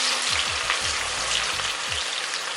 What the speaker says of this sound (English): And then I fry my onion, my chopped onion